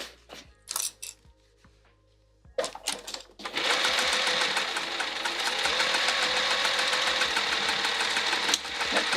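Sewing machine stitching straight across a cork fabric bag, starting with a few short bursts and brief handling sounds, then running continuously and steadily at close range.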